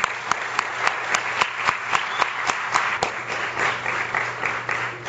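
An audience gives a round of applause for a teacher at an exam-prep lecture, moderate clapping with distinct sharp individual claps standing out, steady throughout and fairly close.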